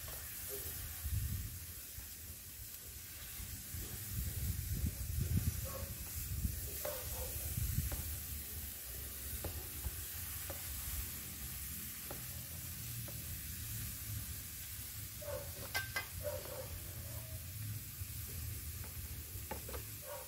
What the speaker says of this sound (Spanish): ya se ve la cacerolada de pollo doradita